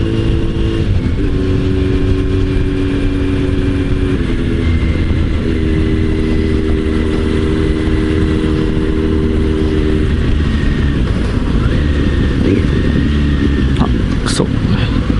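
A Kawasaki Z900RS Cafe motorcycle with a replaced aftermarket muffler idles and revs steadily, a loud close engine drone with rising and falling rev sweeps over about fifteen seconds.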